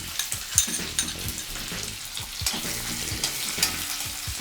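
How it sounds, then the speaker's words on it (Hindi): Chopped onion frying in a pan with browned garlic and ginger, a steady close sizzle broken by repeated clinks and scrapes of stirring, with no voices. "लहसुन और अदरक जब थोड़ा सा ब्राउन हो जाए तो उसमें डालेंगे कटा हुआ एक प्याज।"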